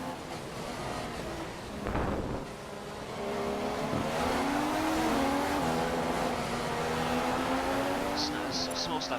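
Formula 1 car in the F1 2015 racing game under DRS in a slipstream, with a loud, sustained engine whine climbing through the gears, a short dip and then rising revs, while a commentator talks over it.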